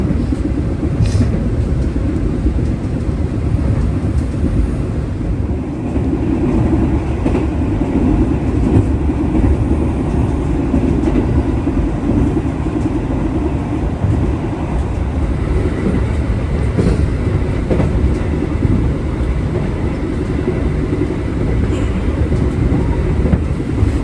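Continuous rumble of the Gumarang passenger train running on rails at night, with low roaring and faint rhythmic clatter throughout, loud and steady, no voices.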